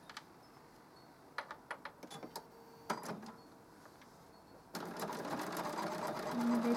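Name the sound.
sewing machine stitching a quilted place mat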